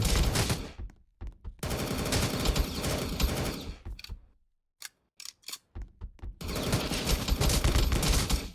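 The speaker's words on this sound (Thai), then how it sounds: "ตอนนี้มีผมคนเดียวเองที่ยิงปืน" Rapid bursts of gunfire in the Roblox game The Resistance Tycoon crackle in dense automatic volleys, broken by short gaps and a few single shots, loud and close.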